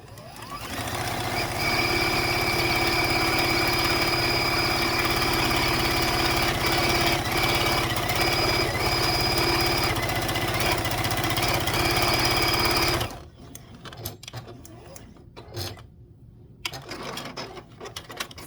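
A sewing machine runs loud and steady, joining quilt rows together, a continuous close whir lasting about thirteen seconds before it stops, leaving quiet handling noises of fabric and movement.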